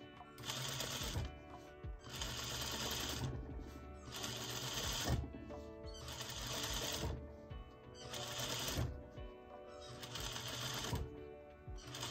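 A sewing machine stitches understitching along a garment seam in about six bursts of rapid, even stitching separated by short pauses, close and fairly loud.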